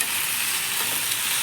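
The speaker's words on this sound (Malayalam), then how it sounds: "മക്രോണി ഇട്ടതിന് ശേഷം കുറച്ച് നേരം കൂടി നല്ല വഴറ്റി കൊടുത്ത്" Macaroni being stir-fried with sugar in a pan, a brief, close, bright sizzle with stirring scrapes.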